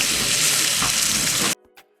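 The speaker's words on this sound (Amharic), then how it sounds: "ዘይት እንጨምርና ትንሽ ጋል እስኪል እንጠብቀዋለን። ቀይ ሽንኩርቱን እንጨምራለን።" Red onion hits hot oil in a pot with a loud, dense sizzle for about a second and a half, then cuts off abruptly to near silence with a faint clink.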